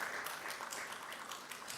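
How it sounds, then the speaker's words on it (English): A short burst of audience applause rises at a media awards gala, dense scattered clapping from a crowd that carries through the brief moment without speech. "You can clap for that, you can clap for that."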